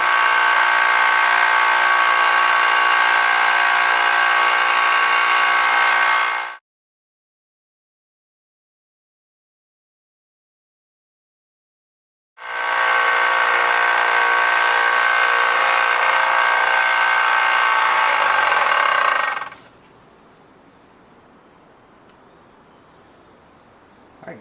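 Belt grinder on a coarse belt sharpening a steel axe blade: a loud, steady whine in two long passes separated by several seconds of silence, ending in a quieter low running hum as the grinder spins down.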